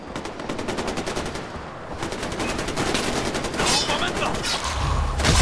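Rapid bursts of automatic gunfire in the video game Far Cry 4 crackle continuously, dense and loud, with a few heavier booms toward the end.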